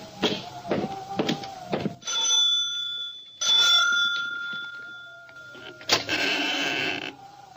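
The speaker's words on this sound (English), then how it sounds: "I expected Mrs. Carstairs to answer the doorbell" A doorbell rings at a large, isolated ten-room house in an old radio drama, giving two bright chiming rings, then a later buzzing ring, each alone in the quiet.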